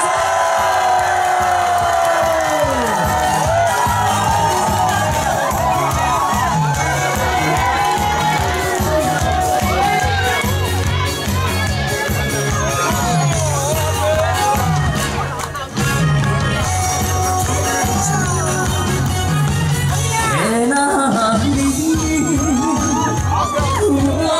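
A festival crowd at the Naju canola flower festival cheers, shouts and whistles loudly for a star performer, a sustained dense roar of excited voices with shrill screams on top, continuous throughout.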